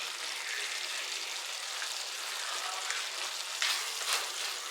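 Pieces of drumstick (moringa) fry in oil in a pan, giving a continuous close sizzle and crackle with a few brief louder spatters near the end.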